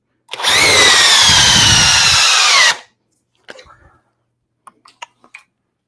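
A DeWalt 999 Flexvolt Advantage power tool driven through knotty wood, a loud close whine that runs for about two and a half seconds and stops sharply, followed by a few faint knocks and scattered quiet sounds.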